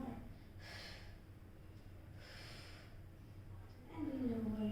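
A person exhales and inhales during a Pilates reach exercise, with soft, airy breaths close by at a quiet level before a voice begins speaking near the end.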